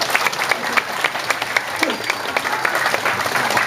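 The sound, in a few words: audience applause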